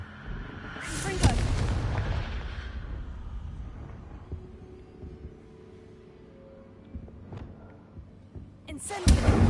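Confringo, an explosive spell cast in the Hogwarts Legacy video game, bursting with loud booming blasts near the start and again at the end, with quieter thuds and game sounds between.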